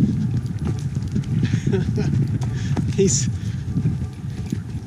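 A horse named Luke clip-clops along a narrow downhill trail, with steady hoof falls close by under a continuous rustle as a rider speaks briefly over the hooves.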